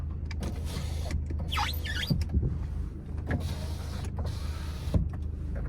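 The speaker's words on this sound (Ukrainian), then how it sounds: "Склопідйомники працюють." Power windows on a Skoda Octavia, a used gas/petrol car with automatic transmission, whir up and down in several short motor runs, close and clear, with small clicks and thumps between them under a low idle hum.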